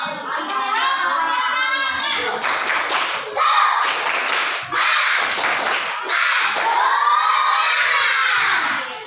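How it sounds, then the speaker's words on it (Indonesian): Elementary schoolchildren in an Indonesian classroom clap their hands together, loud scattered claps mixed with shouting and cheering young voices throughout. "Coba kita tepuk tangan dulu."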